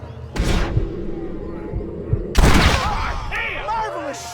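Gunfire in a Red Dead Redemption shootout: a loud close shot, then a second heavy blast with echoing rumble, followed by lingering reverberation and scattered game sounds, with voices talking over parts of it.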